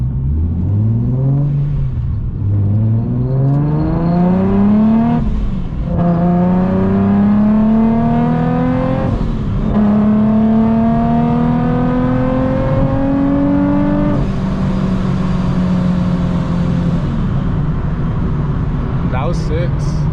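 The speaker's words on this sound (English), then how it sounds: "I can feel boost kicking in. And I can still hear the Yeah, I can hear the blow off." Boosted Nissan 370Z engine pulling hard through rising revs in several gear steps, loud and close, with a turbo blow-off valve hiss between shifts; people talk over the engine throughout.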